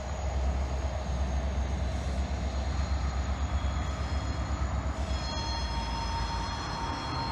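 A CSX freight train moving auto rack cars, backing up to couple onto a cut of cars: a loud, steady rumble of rolling stock close by, with faint wheel squeal and tonal whine rising near the end, no voices.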